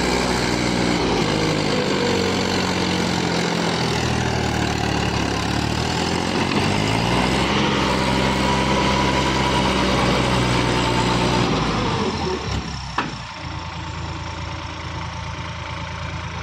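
Mahindra 295 tractor engine labouring in a rain-soaked sandy field, pulling a trolley: a steady, loud low diesel drone with a knocking throb that strains and varies in pitch, then drops abruptly to a quieter idle near the end.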